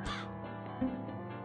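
A crow cawing in the horror video game Gretel & Hansel, two harsh close caws over a droning game soundtrack.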